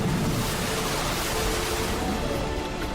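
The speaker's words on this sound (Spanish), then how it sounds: "se levantó un viento fuerte sobre ellos y el mar se agitó mucho." Waves heave on a stormy lake under strong wind, making a dense, continuous roar of surf and rushing air with no let-up and no voices.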